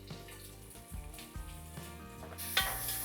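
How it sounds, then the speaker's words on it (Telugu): Sliced onions with salt frying in a pan for bagara rice, a continuous sizzle with occasional stirring scrapes and clinks, close and moderately loud, with a brief brighter burst of hissing near the end and no one speaking. "ఉప్పు వేసి కొంచెం ఉల్లిపాయల్ని వేగనివ్వాలి."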